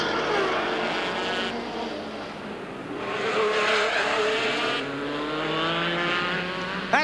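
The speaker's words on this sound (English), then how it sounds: "The V12 engine powers the car out of the hairpin." A Jaguar V12 race car accelerates hard out of a hairpin at the Miami Grand Prix, its engine note rising through several gear pulls, loud and close with a brief tire squeal, no talk.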